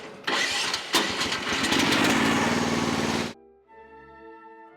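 A Chinese mini excavator's engine is cranked by its starter and catches, giving a loud, rough, broadband roar for about three seconds before dropping suddenly to a steady, lower idle with tonal hum.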